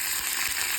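Curry leaves sizzle and crackle in hot oil as they are stirred into a pan for lemon rice, a steady close frying hiss with small pops and no talk.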